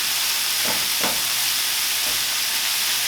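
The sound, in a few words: food sizzling and browning in a dry pan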